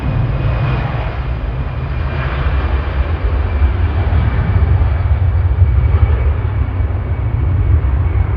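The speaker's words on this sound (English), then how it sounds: "Jet 2167 to Amsterdam, GZ-OU, A320 Classic" A Jet2 Airbus A320 Classic jet roars steadily at Manchester Airport, a loud, sustained broadband engine rumble with a faint whine, continuing unbroken without voices.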